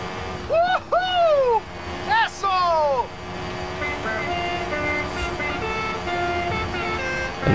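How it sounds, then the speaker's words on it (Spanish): Car horn honking in Forza Horizon 5 during a volcano caldera race event: a few loud, pitch-bending toots in quick succession near the start, followed by steady engine and game background sound. "Claxon."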